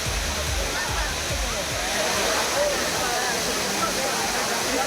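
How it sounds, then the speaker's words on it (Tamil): Water pours steadily at the Courtallam falls in Tenkasi during the monsoon season, a loud continuous roaring rush with deep rumbling underneath, unbroken throughout. "ஏற்கனவே சீசன் காரணமாக தண்ணீர் கொட்டி வரும் நிலையில்"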